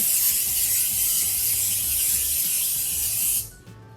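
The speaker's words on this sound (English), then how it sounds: "get our non-stick cooking spray" A steady, close hiss of non-stick cooking spray runs for several seconds, then cuts off abruptly.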